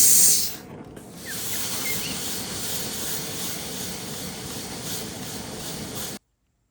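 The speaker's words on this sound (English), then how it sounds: "Now we'll give it the old steam action again." A steam iron pressing yarn-trimmed fabric through a makeshift pressing cloth in a sewing room, with a brief sharp burst followed by a long, steady hiss of steam that stops abruptly.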